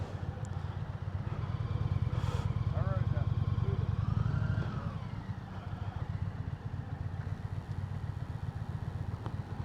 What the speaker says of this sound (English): Notice backing the motorcycle up.